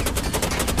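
Rapid automatic gunfire in the video game Rainbow Six Siege, a dense burst of evenly spaced shots firing continuously, loud and close.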